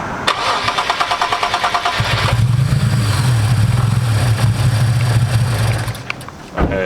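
A VR30 engine swapped into a Nissan 370z cranks with a rapid chugging starter rhythm, catches and runs loud and rough for several seconds, then sputters and dies out, close by.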